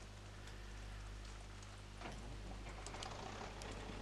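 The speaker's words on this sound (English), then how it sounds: "Lots and lots of rain everywhere, as you can see." Steady rain falls across a farm in a farming video game, a dense even hiss with scattered drop patter and a low constant hum underneath, continuous throughout with no voices.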